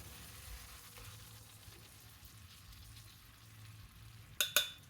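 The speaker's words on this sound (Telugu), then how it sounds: "ఈ శనగపప్పును కూడా ఇందులో వేసేస్తున్నాను ఇప్పుడు" Boiled chana dal cooks in a pan of tomato curry with a faint, steady simmering sizzle, then two sharp knocks near the end.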